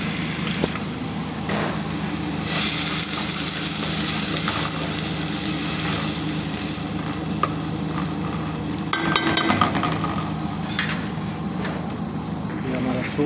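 Tomato and vegetables sizzle in a pot as the base for a spinach soup, a steady hiss with stirring scrapes throughout, briefly louder clatter near the end, and voices talking over it.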